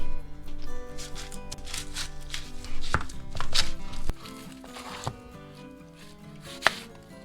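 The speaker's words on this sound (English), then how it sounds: "we're going to cut these really thin. You're going to want to cut it lengthways" A knife works through a red onion, cutting thin lengthways slices on a board. Quick, close, crisp cuts come in an uneven rhythm, with a few sharper knocks of the blade against the board.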